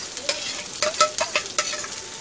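Chopped onion (kanda) fries in a pan with chilli and curry leaves, giving a steady close sizzle broken by several scraping stirs.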